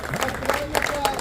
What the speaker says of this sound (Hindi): एक जोरदार तालियों से आप उनका स्वागत करें